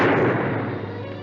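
A single loud gunshot boom in a western film, decaying over about a second, heard alone with no talk.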